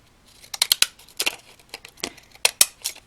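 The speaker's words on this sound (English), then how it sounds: "I just cut those with this decorative edge scissor" Decorative edge scissors snip through paper pages in quick crisp bursts, several short cuts in uneven clusters, close and fairly quiet with no talk.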